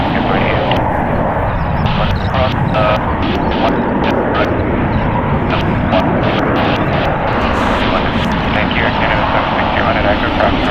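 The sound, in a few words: Boeing 737 MAX 8 airliner arriving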